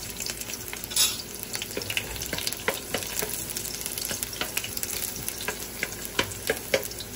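Garlic sizzling and frying in hot oil in a pan before spinach is added, a steady crackling hiss with occasional sharper pops and stirring clicks, close and alone without talk.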